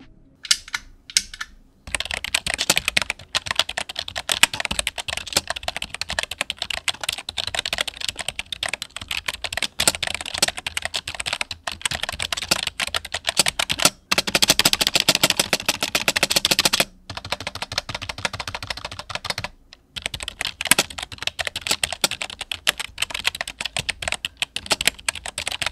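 A Rexus Battlefire K68M budget RGB membrane keyboard is typed on rapidly and continuously, producing dense, soft, clattering keystrokes with a few short pauses and occasional louder spacebar thumps.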